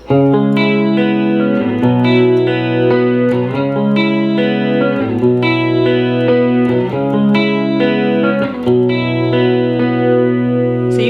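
An effects-laden electric guitar repeats a two-chord loop from a song, loud and steady with a shimmering, slightly distorted tone.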